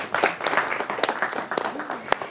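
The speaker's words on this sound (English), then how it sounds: "Ladies and gentlemen, a round of applause for Mr." Audience applause at a Ghanaian celebration for a former TV director: a steady wash of clapping from a crowd, with sharper individual claps and some voices over it, fairly close and continuous throughout.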